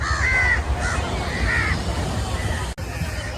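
Several crows caw repeatedly in short harsh bursts over a busy background of murmuring voices and street noise at a fish market near Valiyathura Bridge, Thiruvananthapuram.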